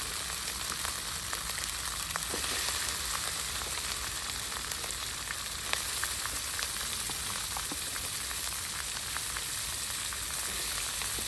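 Eel stir-frying in a hot pan, a steady bright sizzle with scattered crackles and pops running unbroken throughout, close and fairly loud with no talking.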